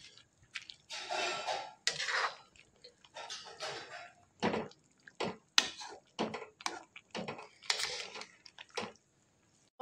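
Fish being stirred together with spices in a pot for an Assamese fish boil makes soft, wet squishing and scraping bursts in irregular spurts, separated by short quiet gaps; no talking.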